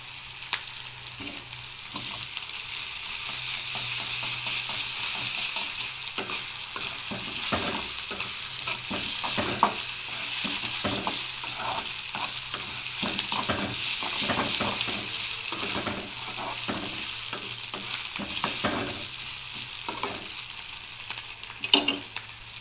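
Bitter gourd pieces and onions frying in a pan, giving a steady loud sizzle broken by frequent stirring scrapes and clinks throughout, with no talking.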